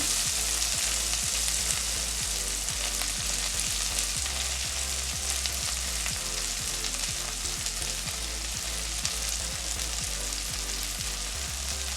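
Green onion fries in a pan for a Jamaican breakfast, with a continuous sizzle and a rapid ticking of stirring strokes running throughout.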